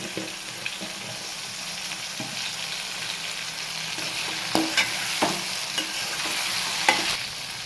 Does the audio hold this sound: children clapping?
no